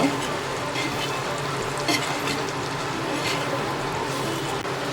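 Masala eggs frying on a tawa, dhaba style, with a dense steady sizzle up close and a few faint scrapes of a spatula, nobody talking.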